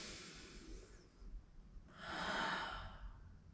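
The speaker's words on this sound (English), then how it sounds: "Inhale and exhale. Connect to your breath again." A person breathes slowly during yoga practice: a soft drawn-out inhale, a pause, then a fuller, louder exhale, close and quiet with no speech.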